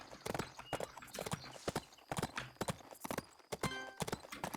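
Horse hooves clip-clopping in the Bibi & Tina horse-riding video game, a brisk irregular series of sharp close hoof strikes, with a short whinny-like tone near the end.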